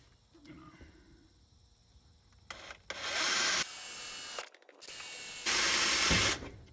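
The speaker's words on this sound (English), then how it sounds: "take our drill with a drill bit just to get a pilot hole started there" A power drill with a bit bores a pilot hole while installing a Mr Gasket vacuum canister on a car, giving loud sustained grinding bursts with a brief pause between them after a quieter start.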